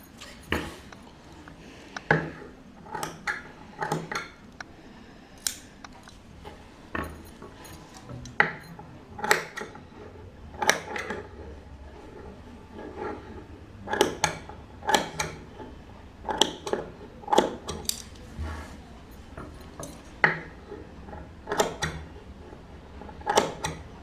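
Scissors snipping blouse fabric close to the stitching, a series of short, sharp cuts spaced irregularly with pauses between, close and fairly quiet.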